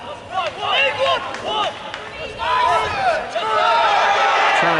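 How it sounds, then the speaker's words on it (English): Rugby league crowd at a Swinton versus Sheffield match appealing loudly for a penalty, a swell of shouts and cries that rises and stays loud, with voices and babble throughout. "The crowd appealing for a penalty"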